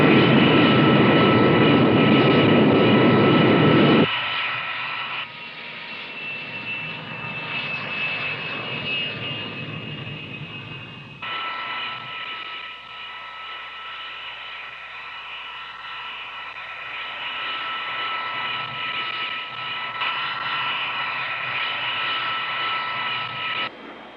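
An X-15 rocket plane flies at Mach 5: a loud, dense roar fills the first few seconds, then drops to a steady rushing engine drone with a thin whine running through it, sustained throughout with no voices.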